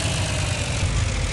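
Tractor engine in the Farming Simulator 2018 video game, a steady low idling rumble with a broad, even drone and no talk over it.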